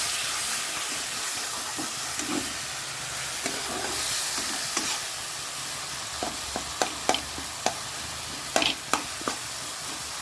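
Tomatoes with salt, turmeric and a little chili powder fry in a pan, giving a steady wet sizzle broken by several sharp pops and spatters, close and continuous with no talking.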